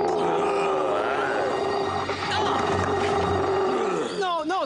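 Animated cartoon dog named Argos letting out a deep, continuous growl, close and loud and running throughout, ending in a rising whine-like sweep near the end.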